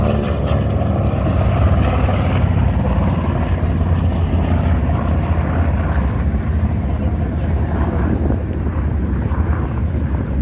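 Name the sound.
Grumman TBM Avenger propeller aircraft flying at airshow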